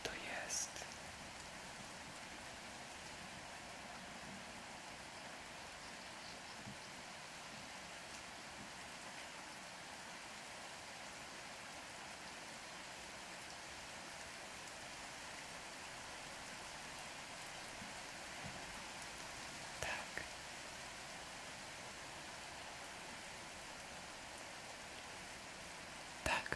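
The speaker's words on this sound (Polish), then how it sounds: "To są odgłosy deszczu." Soft, steady rain falls in a continuous hiss at low level throughout, with a couple of faint brief knocks partway through and no speech.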